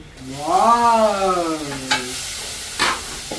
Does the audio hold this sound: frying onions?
yes